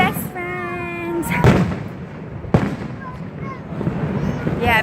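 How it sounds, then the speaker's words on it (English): Fireworks burst over Niagara Falls with sharp booming reports and crackling tails, preceded by whistling launches; people talk nearby as the explosions echo. "back to the fireworks."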